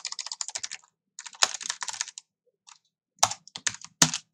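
Computer keyboard typing while coding in C++, in quick bursts of clicky keystrokes separated by short pauses, close and clear with no talking.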